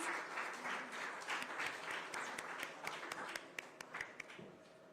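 An audience at the 15th Social Entrepreneur of the Year Award ceremony claps as awardee Madhura is called on stage; dense applause gradually thins into sparser individual claps toward the end.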